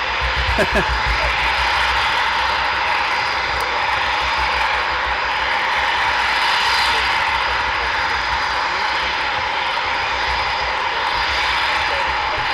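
Eurofighter Typhoon jet engines during night operations at RAF Coningsby, a loud sustained roar and whine filling the air without letup, with a steady high-pitched tone on top.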